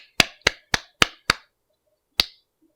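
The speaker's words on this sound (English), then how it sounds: "Let's give it a round of applause." A few sharp, distinct hand claps, five in a quick even rhythm, then a pause and one last clap, close and clear with no crowd.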